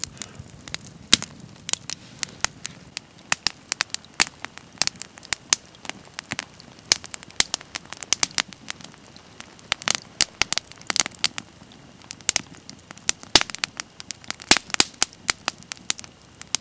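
A campfire at a woodland base camp crackles and pops, with sharp irregular snaps over a low, steady background, heard up close.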